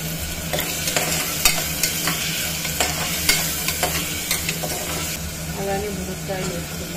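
Black-eyed peas with curry leaves frying in oil for a Karnataka-style sambar, a continuous loud sizzle with repeated scraping stir strokes and crackling bursts throughout.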